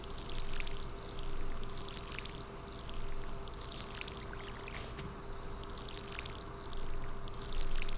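Water trickling and splashing in a pond in the video game Stardew Valley, a soft continuous pour with gentle repeating swells, fairly faint under a steady background tone.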